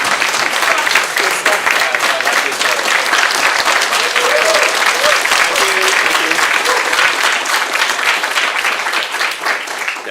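A conference audience applauds steadily and loudly for about ten seconds, dense clapping from many hands filling the hall without a break.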